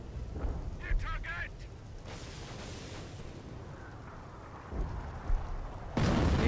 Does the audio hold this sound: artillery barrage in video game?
yes